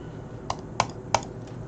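Typing on a computer keyboard, three or four distinct key clicks spaced irregularly over a faint steady background hum, with no talk.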